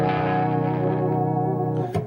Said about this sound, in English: So there's the wah-wah.